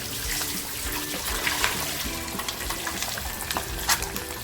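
Eggs fry in hot oil for a dhaba-style egg masala, a continuous close sizzle with scattered crackles and pops throughout, steady and fairly loud, with no talking.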